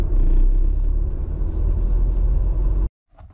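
A car drives along a village road with a loud, steady engine rumble and road noise close by for about three seconds, then cuts out abruptly into near silence.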